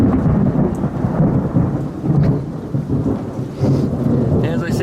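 A thunderstorm with steady rain, loud continuous rumbling thunder rolling beneath dense patter of rainfall, close and enveloping throughout.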